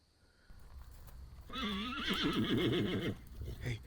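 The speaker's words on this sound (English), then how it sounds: "Kiera, get the horse. Hey. It's okay. Calm down." A startled horse lets out a loud, wavering whinny at close range for about two seconds, preceded by shuffling and a rising background rumble, with no talking.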